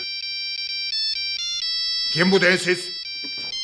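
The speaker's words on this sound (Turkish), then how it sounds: "Kapatın telefonu." A mobile phone ringtone in a classroom plays a steady electronic melody of repeating tones, loud and near, while a voice briefly speaks over it partway through.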